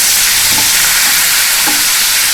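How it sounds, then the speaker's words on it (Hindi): Onion paste fries in a pan while being stirred, giving a loud, dense sizzle with soft scraping strokes of the stirring running through it. "देखिए इसको हम अच्छी तरह से गुलाबी होने तक इसको भूनेंगे"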